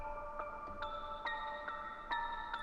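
Freedom bell sample in a beat, soaked in delay and wet reverb with the lows cut and widened stereo, ringing in soft repeated strikes about every half second with long shimmering tails like drips in a cave.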